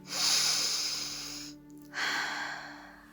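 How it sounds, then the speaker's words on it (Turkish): A person takes a slow, deep breath in and then out during a guided meditation, close and clear with a brief pause between the two breaths. "derin bir nefes al"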